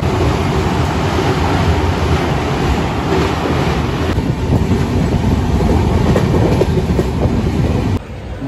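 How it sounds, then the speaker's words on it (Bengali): The MGR Chennai SF Express pulls away from the platform with a loud, continuous rumble and rhythmic rattling of its coaches, heard close up and ending with a sudden drop in level near the end. "ট্রেন এখনই ছেড়ে দেবে।"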